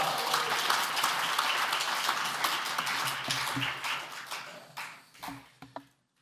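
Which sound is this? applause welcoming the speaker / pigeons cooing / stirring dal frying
applause welcoming the speaker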